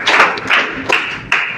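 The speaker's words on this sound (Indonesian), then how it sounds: "tepuk tangan dulu untuk jawaban yang sangat bagus sekali" A classroom of students claps in a few short, sharp bursts, close and fairly loud, in a patterned rhythm with brief gaps between the groups of claps.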